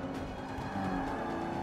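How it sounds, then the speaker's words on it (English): A slow car sliding and drifting under hard cornering in the racing game Forza 5, a steady engine drone with tire squeal, moderately loud and continuous, no talk. "It's so easy to slide. Car drifting away there, but I've managed to stay in control."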